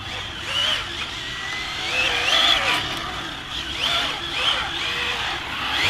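An ARRMA Infraction 6S 1/7 scale RC car drifting on a single 6S pack: a high, fluctuating electric motor whine rising and falling through turns, with faint tire scrub, moderately distant and continuous.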